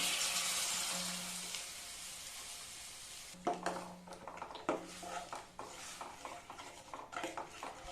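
A spoon scrapes and clinks against a pot while coconut paste is stirred into a South Indian buttermilk curry, starting over a soft sizzle and then turning into a string of uneven metallic scrapes, close and fairly quiet.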